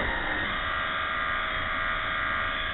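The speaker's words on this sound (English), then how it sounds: "Push this button and it lowers the deck" An electric actuator lowers the cutting deck of a remote-control lawn mower, giving a steady, close electric motor buzz that holds at an even level throughout, with no talking.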